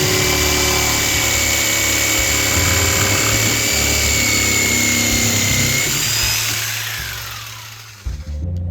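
Power tool cutting into a piece of recycled wood, a loud, close, continuous whirring saw drone that holds steady for several seconds before winding down and stopping near the end.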